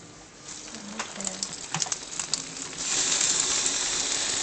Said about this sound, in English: You can turn it on and then spray on his head.